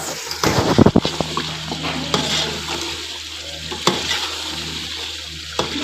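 Chicken with garlic and ginger frying in oil for a white qorma, a continuous close sizzle broken by scraping, clattering stirs in the pan, loudest early on.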